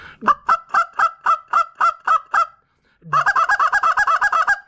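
A short reed call blown to imitate a Canada goose gives a steady run of evenly spaced loud moans, then after a short pause a faster burst of clipped honks, close and alone.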